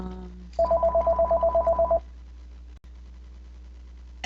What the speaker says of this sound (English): Sorry about that, my phone rang.